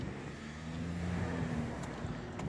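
A strange red car chases the player in the game Jungsturm: Polar Thunder, its engine a steady low droning hum that swells slightly and holds close throughout, with no talking.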